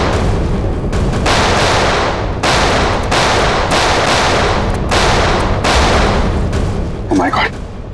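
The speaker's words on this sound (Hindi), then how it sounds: "कवर फायर दो जल्दी।" Loud bursts of rapid gunfire ring out during a shootout in a TV crime drama, several long volleys separated by short gaps, with a brief shout near the end.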